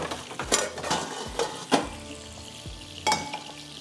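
Spiced meat kebabs frying in a pan on a home kitchen stove, a steady low sizzle broken by several sharp clinks and scrapes of a utensil against the pan.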